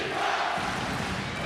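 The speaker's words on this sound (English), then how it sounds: "they bring the crowd back in it, and you can hear it chanting defense" A basketball crowd at a FIBA Asia Cup 2025 group-phase game, Korea against Lebanon, roars in a dense, steady wall of voices that swells into rhythmic chanting of defense, loud and close throughout.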